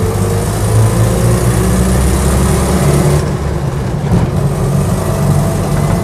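A Land Rover Series 1 86-inch fitted with a 2286 Series 2A engine idles steadily and loudly close by, a low rumbling throb with even firing and no talk over it.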